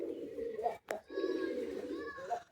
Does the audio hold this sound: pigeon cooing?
yes